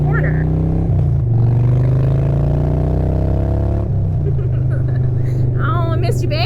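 A motorcycle engine drones loud and close during a ride, holding a steady note that shifts pitch as the throttle changes, with a voice briefly audible toward the end.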